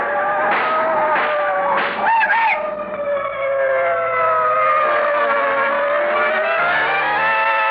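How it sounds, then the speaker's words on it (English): Radio drama sound effect of cars speeding toward someone: loud engines and squealing tires with rising, swooping siren-like tones, a few sharp bursts early and then a long sustained howl as the vehicles close in. "Herbert, those cars! What the... They're coming this way."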